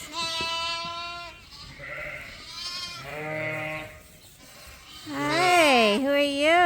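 Several sheep ewes bleat inside a barn, loud and close, with overlapping wavering calls in bursts and a louder cluster near the end; a person talks softly among them.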